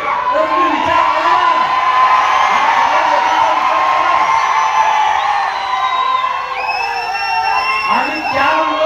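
A crowd at a political rally cheers and whoops loudly and continuously, a dense, sustained roar of many voices with shrill shouts and whistles rising near the end.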